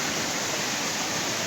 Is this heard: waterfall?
yes